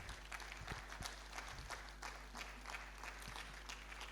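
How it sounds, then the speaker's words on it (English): Faint applause from a conference audience, a soft, continuous patter of clapping heard from a distance over a low hum. "Keep clapping, keep clapping."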